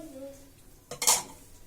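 Chillies and coriander being mixed in a pan, a metal spoon giving a couple of quick clinks and a short scrape against the pan, close by after a brief faint tone.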